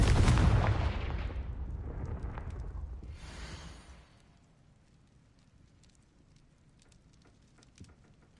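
A Confringo blasting spell explodes in Hogwarts Legacy, a loud close burst with a crackling, rumbling tail that fades over about four seconds into quiet ambience with faint scattered ticks.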